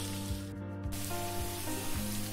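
Chili chicken fries in a pan with a steady, even sizzle throughout, while a low hum and soft clicks sit underneath.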